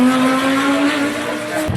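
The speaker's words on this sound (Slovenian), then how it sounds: "To, kar slišiš, so podporne dirke." Race cars in the support races at the 2024 Le Mans event roar loudly and close, a sustained high engine whine holding steady before dropping off as a car passes.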